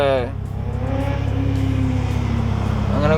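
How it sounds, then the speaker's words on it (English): A BMW E90 fitted with a VRSF intercooler pulls away, its engine drone rising briefly and close by while someone talks over it. "But I'm gonna drive right now."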